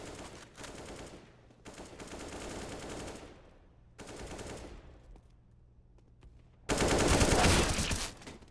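Counter-Strike: Global Offensive gunfire comes in several bursts of rapid automatic shots separated by short quiet gaps, ending with a louder, denser burst, fairly faint overall with no talk.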